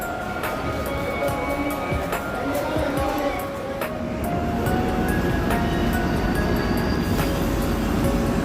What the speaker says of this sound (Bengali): তো এখানে অনেক রকমের ট্রেন যাচ্ছে,